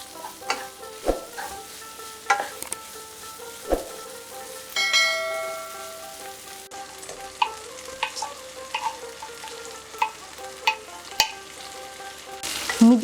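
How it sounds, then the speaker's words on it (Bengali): Tomato with ground spices being fried down in a pan for prawn masala curry, a soft sizzle under repeated clinking stirs of a spoon against the metal pan, close and fairly quiet, with no talk. "একটা মিডিয়াম টমেটো আছে। এক থেকে 2 মিনিট আমি এটাকে একটু কষে নেব।"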